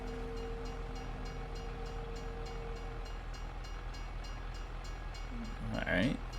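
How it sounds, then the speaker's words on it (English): A train in Farming Simulator 25 rolls past with a steady rumbling drone and faint rhythmic clacking, moderately loud and continuous, with a voice briefly heard near the end. "so we need to wait for the train."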